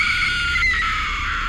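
A woman's blood-curdling scream used as a horror sound effect: one sustained, piercing high-pitched cry held steady over a low rumbling background, loud and unbroken for the whole stretch.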